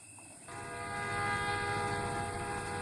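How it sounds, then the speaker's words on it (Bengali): A cartoon train pulls into a station: a rumbling engine, then a long sustained horn blast that swells louder and holds to the end, no voices. "ওই যে তোর ট্রেন এসে গেছে রে"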